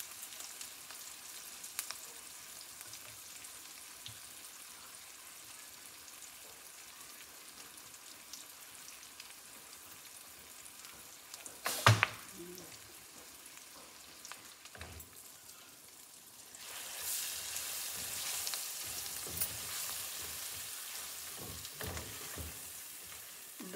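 A tempering of spices crackles and sizzles in hot oil in a pan for Andhra-style yellow cucumber (dosakaya) chutney. The frying is quiet at first, with a brief sharp crackle midway, then a louder, steadier sizzle with no talking.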